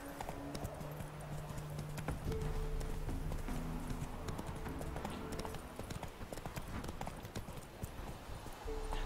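Horse hooves clip-clopping in The Witcher 3 as the mount trots along a road, a steady rhythmic beat of hoof strikes under a continuous game soundtrack and ambient noise.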